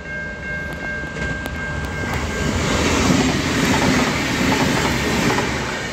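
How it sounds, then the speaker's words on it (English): An Australian train rumbles steadily past nearby at night, a continuous clattering roar that swells toward the middle and holds, with a faint high tone above. "Some sort of train with a green light."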